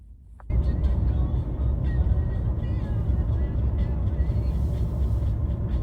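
Car driving along a snowy, slippery winter highway in Canada toward Parry Sound, with a loud steady road rumble and engine drone, and people talking faintly over it.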